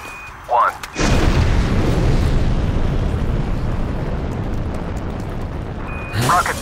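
A rocket launch in Call of Duty: Cold War: a sudden loud ignition blast swells into a sustained, broad, thundering roar that slowly fades, with brief radio-style voices near the start and the end.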